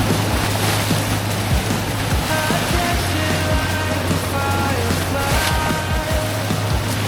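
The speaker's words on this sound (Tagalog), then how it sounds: "Malakas nga alon." Steady rush of strong ocean waves and churning water at the shore in Ternate, Cavite, with a low motor drone underneath, continuous and fairly loud throughout.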